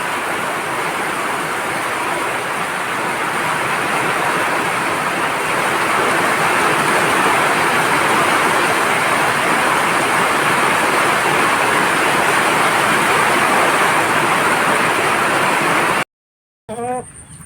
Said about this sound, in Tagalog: Diyan na po yung lakas na ulan.